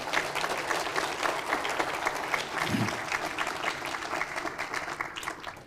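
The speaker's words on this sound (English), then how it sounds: "let's give our city team a round of applause" An audience applauds a city team at a State of the City 2023 event, with steady, dense clapping that runs throughout at moderate distance.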